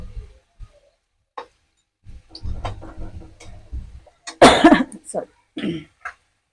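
One harsh, rasping cough from a person with a bad cold bursts out between stretches of talk while cooking biryani, with a few throat-clearing sounds nearby.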